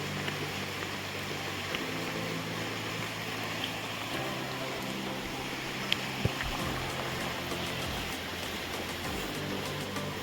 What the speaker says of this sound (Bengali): জলটা এত স্রোতে আসছে